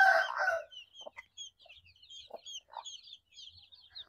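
Pure Sampin chicken chicks peeping in a steady run of high, thin chirps, with a louder brief clucking burst at the start and soft scattered knocks beneath.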